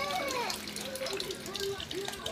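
A kitchen tap runs in a steady, moderately loud stream of water throughout, with no clear pauses.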